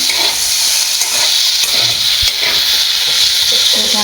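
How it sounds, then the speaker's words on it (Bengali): Okra and potatoes fry together in a pan over medium heat, giving a loud, close, steady sizzle with stirring scrapes throughout. "ঝামা আলু এটা একসাথে ভাজা হবে"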